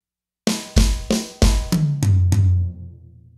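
A drum kit fill played on toms, floor tom and bass drum: six heavy hits in a steady descending run, close and loud, the last strokes ringing out into a fading decay.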